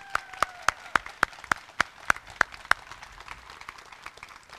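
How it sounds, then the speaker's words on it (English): A small audience claps at a grand opening for new lofts at a farmers market in St. Paul, giving a thin, fairly faint round of applause that fades out within a few seconds. "Let's give Cecile a round of applause."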